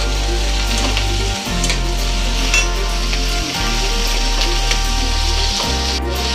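Chopped tomato sizzling in hot oil in a pan for tilapia curry, a loud steady crackling fry with occasional scraping stirs and a low hum underneath, no talking.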